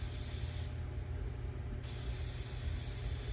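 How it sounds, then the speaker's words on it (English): Air-powered pintle gun blasting through E-TEC outboard fuel injector pintles to clear clogged nozzles of dissolved varnish: a steady, close, loud hiss of spraying air that continues throughout without a break. "it blows out any dissolved varnish and whatnot that is remaining in there"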